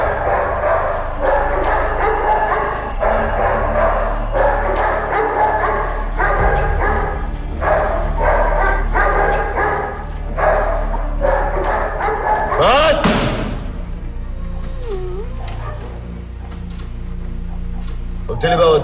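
Dogs left unfed for three days bark and yelp repeatedly in a loud, rhythmic burst, with someone talking over them, followed by a whoosh and a quieter tail.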